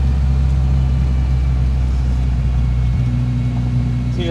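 A car engine idles steadily after its first drive, giving a constant low rumble that stays loud and close for the whole stretch, with a slight shift in tone near the end.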